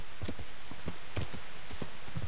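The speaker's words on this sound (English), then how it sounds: "Now it's raining." Rain falls steadily in Kingdom Come: Deliverance on a dark forest path, a constant broadband hiss with soft scattered thuds and taps in the foreground.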